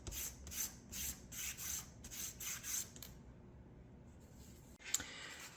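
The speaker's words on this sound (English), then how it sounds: "so we've got it sanded, got rid of all the fuzzies there" Sandpaper rasping on the wood of a Model Shipways Norwegian sailing pram model, a run of about eight steady back-and-forth strokes close up, then quiet with a small tap near the end.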